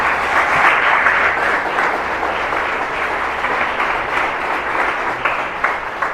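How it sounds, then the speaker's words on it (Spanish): A church congregation applauds God during a worship service, a dense, steady wash of clapping from many hands that holds at an even level throughout with no voices rising above it. "Dale ese aplauso un poquito a Dios."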